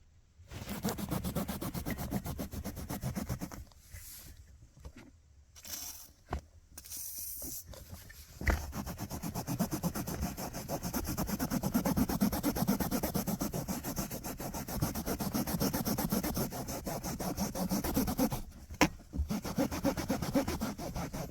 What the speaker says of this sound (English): I will now use the WD-40 and a dry cloth.